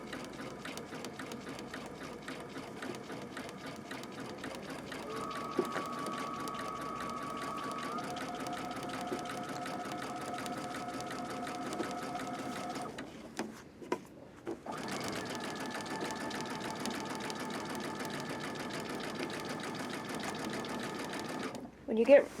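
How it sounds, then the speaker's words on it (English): Domestic sewing machine stitching yarn couched onto fabric for a round pillow, a steady close mechanical whir with a short pause midway, then stitching resumes; a person talks over it throughout. "let's just start stitching. Again, making sure the yarn is feeding through, and I'm just helping the fabric around in a circle."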